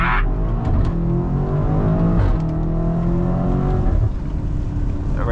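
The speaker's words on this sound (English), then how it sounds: "Wait for his car to pass." A car passes close by on a rainy day, its engine and tire wash forming a loud, continuous roar that swells and fades slightly over several seconds.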